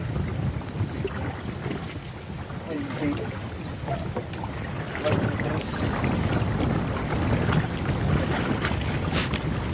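Strong wind blows over open sea by a small boat in the shallows, with a constant loud roar of gusts buffeting the microphone and splashing water beneath, while people speak briefly.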